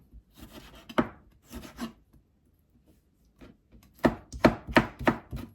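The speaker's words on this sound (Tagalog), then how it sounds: "So ito naman hiwain natin ngayon yung tomato." A knife slices a tomato on a cutting board for a bitter gourd salad: a few scattered cuts at first, then a quick run of crisp, close chops after a short pause.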